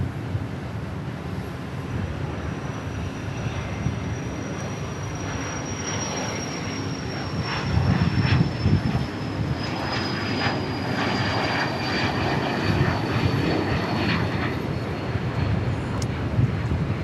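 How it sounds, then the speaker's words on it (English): A Cessna Citation Mustang business jet takes off at Dallas Love Field, its steady engine roar and high descending whine holding for the whole stretch and swelling slightly midway. "Like another Mustang taking off there, Citation Mustang"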